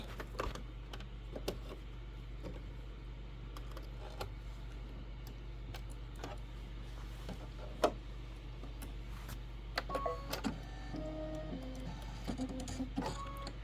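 An embroidery machine stitches background quilting on a Christmas ornament quilt block, making a faint, steady mechanical hum with light, irregular ticking clicks throughout.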